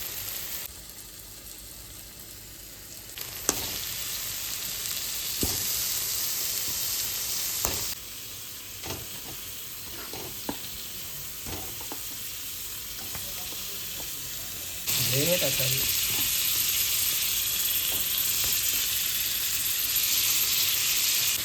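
Turmeric-marinated chicken sizzles and fries in a hot pan of spiced masala, a steady close crackle with occasional stirring clinks, growing louder and denser partway through as more meat hits the oil.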